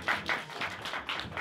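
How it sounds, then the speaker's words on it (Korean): At the end of a one-on-one round-of-16 match at the RYC2024 competition, a small group claps briefly, about six quick rhythmic bursts of hand claps close by. "박수."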